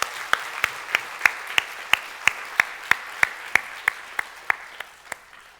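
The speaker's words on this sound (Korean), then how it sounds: "우리 유년부를 한번 박수하며 격려하겠습니다." A congregation at a Korean church Sunday service claps in a steady, evenly spaced rhythm, about sixteen sharp beats in under six seconds, to welcome the children's department. The claps are moderately loud with no talk over them.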